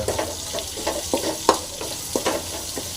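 Salted onion frying together with banana stem in a pan for valai thandu kootu, a close, busy sizzle punctuated by frequent scraping stirs of a spoon, one slightly louder knock midway.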